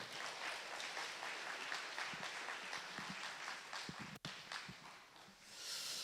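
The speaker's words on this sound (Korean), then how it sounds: "뜨거운 박수로 환영해 주시기 바랍니다." A church congregation at a Sunday worship service applauds to welcome a visiting professor to the pulpit, with dense, even clapping that runs the whole time, a few sharper claps and one brief dip near the end.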